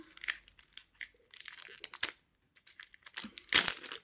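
A Mario trading card pack is torn open by hand, with close, crisp crinkling and ripping of the foil wrapper in short irregular bursts, ending in a louder rip.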